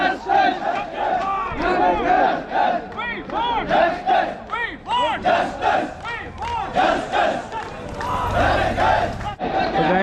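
A large crowd of protesting teachers shouts slogans on a road in Jammu and Kashmir, a dense, loud, continuous roar of chanting voices close by with rhythmic surges and no break.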